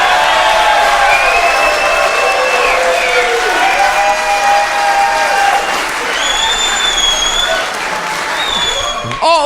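Loud sustained applause and cheering from a large audience at a Trump speech, dense clapping that fills the hall with scattered whoops on top and a voice audible near the end.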